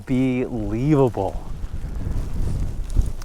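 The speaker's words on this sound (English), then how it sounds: "it is getting so windy" Strong gusting wind roars and buffets a microphone outdoors during a rare Florida snowstorm, a steady rushing noise following a brief spoken voice.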